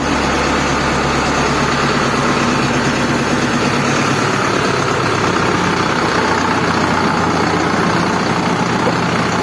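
A Deutz-Fahr diesel tractor engine, cold and warming up, idles steadily and loudly up close, a continuous low rumble with no knocking and no voices.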